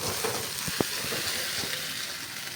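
Beaten egg with onions fries in an oiled pan, giving a short, close bed of crackling sizzle punctuated by a single sharp utensil tap.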